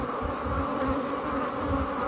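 Honey bees buzz at an open hive during brood removal, a dense, continuous close-up hum that stays steady and loud throughout with no speech.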